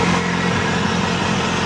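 Pit bike engine with a suspected coolant leak idling steadily after running for about half an hour, a continuous low even drone with no revving and no voices.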